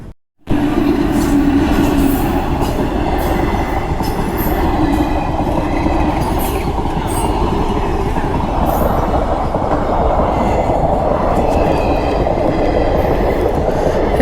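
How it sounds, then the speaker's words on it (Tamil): A short train rolls past a closed level-crossing gate near Courtallam, a loud, close, continuous rumble of wheels with rhythmic clickety-clack and occasional squeal that runs steadily throughout, with no talking. "இந்த சின்ன ட்ரெயினுக்காக கேட் போட்டு வச்சுருந்தீங்க?"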